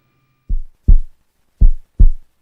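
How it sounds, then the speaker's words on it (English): Two double-thump heartbeat sound effects, loud, deep and close, each pair of beats evenly spaced with silence between. "Little heartbeat to make it more elaborate"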